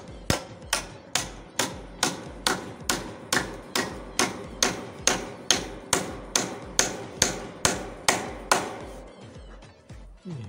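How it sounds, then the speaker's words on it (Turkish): Nails are hammered while a chicken coop is built, about twenty evenly spaced, ringing metallic blows in a steady rhythm, close and loud, stopping near the end with no talking. "Adama çivi çaktı baba."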